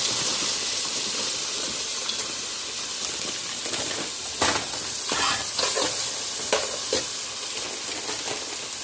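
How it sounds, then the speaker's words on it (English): Vegetables hit a hot pan for a gluten-free chicken pot pie, giving a steady close sizzle and frying hiss with scraping stirs and clatter breaking through near the end, no voices. "I'm gonna put in the vegetables."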